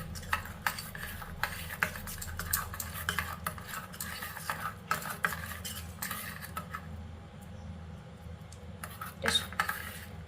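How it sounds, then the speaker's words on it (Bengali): A utensil whisks and stirs ingredients together in a bowl for a chhana dish, with rapid repeated clinks and scrapes in uneven bursts over a low background hum. "এবার এটাকে ফেটিয়ে নেব এগুলোকে একসঙ্গে"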